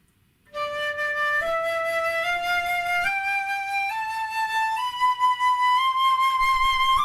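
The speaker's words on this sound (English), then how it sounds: "When I pick my fingers up, uncovering the keys, going up the flute, it makes the flute shorter, which makes the sound go higher" A solo flute plays a slow upward scale, each note held for about a second and stepping higher in pitch as the keys are uncovered; the tone is clear, close and steady, with no talking.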